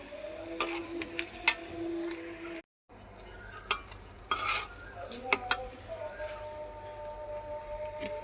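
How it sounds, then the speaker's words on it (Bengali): Boiled chickpeas are stirred and tempered in a hot pan, with a metal spoon scraping and clinking over steady sizzling frying and a brief pause partway through; a voice talks over it at times. "এই যে এখন বুটটা বাগার দিয়ে দিতেছি আমি।"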